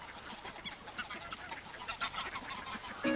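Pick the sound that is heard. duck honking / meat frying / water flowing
duck honking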